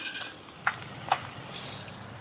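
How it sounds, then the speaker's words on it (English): Half a white onion sautéing in a cast iron skillet with ground beef and bacon, a soft, steady sizzle broken by two small clinks or taps. "now that our ground beef and our bacon in our cast iron skillet is almost cooked all the way, we're going to go ahead and dump in a half of a white onion"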